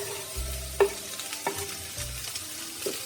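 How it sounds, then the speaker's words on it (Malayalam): Chopped onions and curry leaves frying in hot oil after mustard seeds for a Kerala lunch, a quiet sizzle with a few sharp clinks and low scraping stirs spaced through it. "കടുകിട്ടതിന് ശേഷം നമ്മളുടെ സവോളയും കറിവേപ്പിലയും കൂടെ അതിലോട്ടിടുക."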